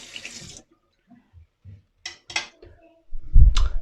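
Water splashing at a sink during a face wash, with short bursts of running water and wet hand sounds separated by quiet pauses, ending in a louder splash and a faint voice.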